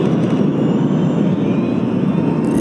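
A steady, loud engine roar from military aircraft and helicopters passing overhead at an Ethiopian army parade, broad and continuous with no breaks.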